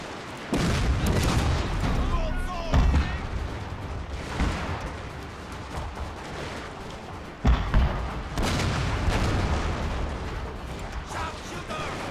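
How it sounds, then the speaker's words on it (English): Gunfire from soldiers in a video game battle, with sharpshooters on the flank, rings out as a dense, continuous roll of shots and booms and two sharp louder bursts, without speech. "Yep, everyone's shooting."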